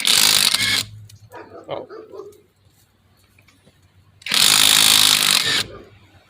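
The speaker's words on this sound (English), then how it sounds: "So let's see if it can bust these nuts off, these lugs off." A Hyper Tough cordless 1/2-inch impact wrench hammers loudly at lug nuts on an old 1989 truck in two bursts, with a quiet pause between them where a voice briefly reacts.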